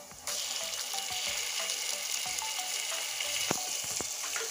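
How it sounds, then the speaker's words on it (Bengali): Garlic paste frying in oil in a pan, a steady soft sizzle with faint clicks of stirring, quiet and close, no talking. "এবার রসুনটা ভালো করে ভেজে নিব"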